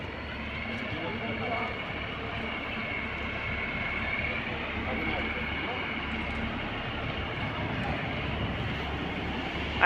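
A steady, heavy rumble of a train rolling over a bridge nearby, continuous low roar throughout with a faint voice underneath.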